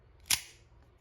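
A Schrade Beta Class Uproar double-action OTF automatic knife with a 3-inch satin spear point blade fires out once. The deployment is a single sharp, close metallic snap with a brief ringing tail.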